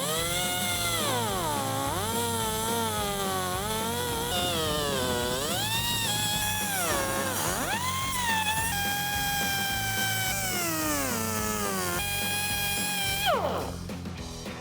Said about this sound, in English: I'm gonna take a cut-off wheel and cut our U-bracket.